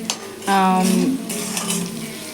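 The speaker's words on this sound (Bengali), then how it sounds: "এবার আমি আলুগুলোকে লাল লাল করে ভেজে নেবো" Potatoes fry in oil in a pan with a steady sizzle, and a spoon stirs and scrapes close by, with a short tonal whine in the middle.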